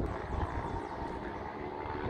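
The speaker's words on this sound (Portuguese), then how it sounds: "O acionamento na potência dos motores, você consegue ver aí, ó, você consegue ouvir." Twin-engine propeller aircraft at Sorocaba airport powering up its engines, a steady loud droning roar that holds at constant level throughout, close by with no talk.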